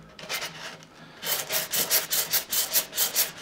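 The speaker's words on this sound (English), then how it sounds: "I can sand the putty smooth." Dried putty being sanded smooth by hand, a steady run of rhythmic back-and-forth rasping strokes, fairly close and loud, with quieter scratchy rubbing before the strokes pick up pace.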